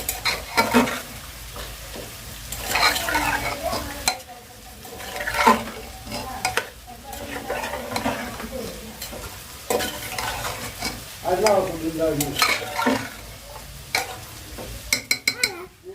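Meat stir-fried with spices in a pan, a close sizzle broken by repeated stirring and scraping bursts and metallic clinks of a spatula against the pan.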